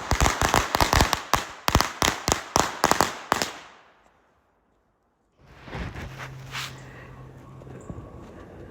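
New Year fireworks go off in a rapid string of sharp firecracker bangs for several seconds. A short silence follows, then a rumbling, crackling burst with distant pops.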